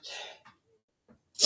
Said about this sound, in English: I get the sneezes